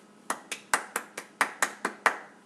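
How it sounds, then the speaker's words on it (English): Nine sharp, evenly spaced hand claps ring out close and clear in a quiet room, a small round of applause for Mr. Temple at an interview, with no one talking. "Let's give Mr. Temple a round of applause."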